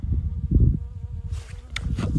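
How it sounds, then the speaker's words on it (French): A bee buzzes close by outdoors on a calm, windy mountain day in the Pyrenees, with a steady low drone that swells and drifts across a couple of seconds. "Ouais, sauf si tu te fais piquer par une abeille."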